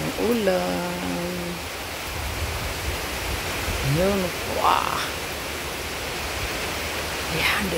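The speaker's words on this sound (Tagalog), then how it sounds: "Ayan, ulan na naman. Oh yeah, ulan." Heavy rain pours steadily during a typhoon at a home garden, a loud continuous hiss with voices talking briefly over it.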